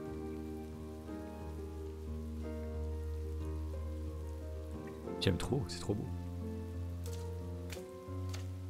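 Rain patters steadily in the video game Behind the Frame, a gentle continuous wash under soft sustained music, with someone speaking briefly over it.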